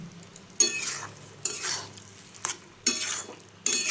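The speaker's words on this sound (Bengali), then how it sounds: "এরকমভাবে কিছুক্ষণ আমি নাড়াচাড়া করে নিচ্ছি।" Chopped vegetables for a dalia dish being stirred in a pan, bursts of hissing sizzle with each of about five stirring strokes, close by, no voices.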